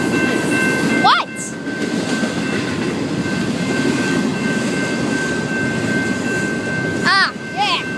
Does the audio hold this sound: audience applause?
no